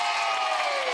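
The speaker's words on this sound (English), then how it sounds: "let's have a huge cheer for our very special guest" A studio audience at a children's TV show, Justin's House, cheers and claps in a loud, dense burst that lasts about a second.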